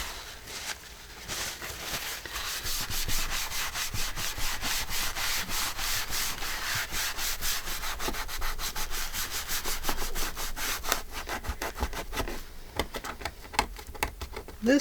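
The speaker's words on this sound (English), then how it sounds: "This one I'll scrub." Steady, continuous scrubbing of a craft cutting mat, a dense rubbing and brushing texture that keeps going for the whole stretch with no talking over it.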